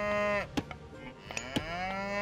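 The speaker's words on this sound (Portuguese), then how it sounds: "Mais uma vaca." A cow in the Age of Mythology Retold video game moos twice, two long drawn-out calls that are loud and close, with no talking over them.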